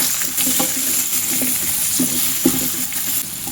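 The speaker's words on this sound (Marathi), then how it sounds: "आता आपण मध्यम आचेवरती ही भेंडी छान अशी फ्राय करत ठेवली" Okra (bhindi) masala fries in a pan over medium heat with a steady sizzle, broken by a few soft stirring knocks and scrapes, with no voices.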